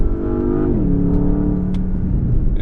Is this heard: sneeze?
no